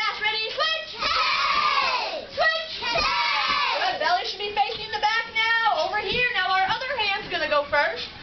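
Children in a karate class yell loudly in unison as they punch, with sustained shouting voices filling most of the clip and brief dips between rounds.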